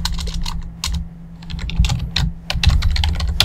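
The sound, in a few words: typing on a computer keyboard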